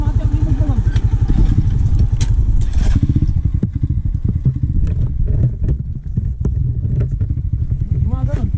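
A motorcycle engine runs steadily close by, a continuous low throbbing rumble with clattering knocks, while a person talks over it.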